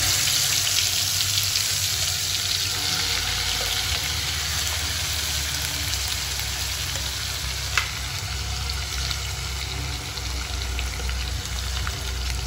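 Ground spice paste frying in a pot over a low flame for Malaysian mutton soup, a steady, close, loud sizzle and crackle with no pauses and one brief clink.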